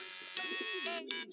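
A pigeon in the video game Hiveswap coos in a soft rolling call, close and clear, with a few short high clicks breaking through.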